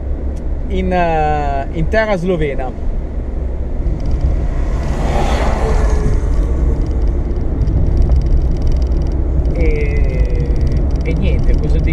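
An Alfa Romeo 33 driving in Slovenia gives a steady low engine and road rumble throughout, with someone talking over it at the start.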